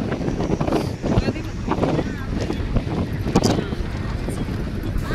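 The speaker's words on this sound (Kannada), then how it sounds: "ಗಾಳಿ ಜಗ್ಗೈತಿ, ಗಾಳಿ" Strong wind buffets the microphone in continuous low rumbling gusts, loud and close, with voices faintly audible underneath.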